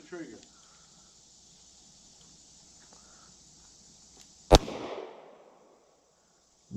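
A single sharp gunshot at an outdoor shooting range cracks out close and loud, with a short echoing tail after it, and quiet talk comes before the shot.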